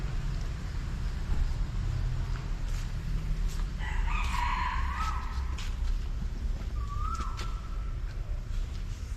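A rooster crows once at moderate distance in a fishing village, a rising then falling call over steady low ambient rumble, with a shorter faint crow or whistle following a few seconds later.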